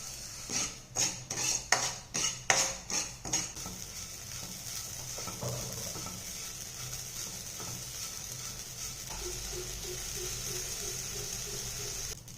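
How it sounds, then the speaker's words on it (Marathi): A spoon stirs popped, roasted amaranth against a cloth with the gas off, giving a quick series of rhythmic scraping, clinking strokes for a few seconds before fading into a quieter low rustle and hum. "गॅस बंद करून असं एका चमच्याने या कापडासोबत असं फिरवायचं आहे"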